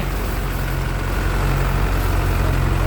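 An Isuzu engine on an old rice-threshing truck idles with a steady, loud, low rumble and an even hum that holds unchanged throughout.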